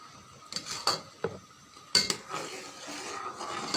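Boiled sago is stirred in a pot, with a spoon repeatedly knocking and scraping against the metal sides and bottom over a faint bubbling background.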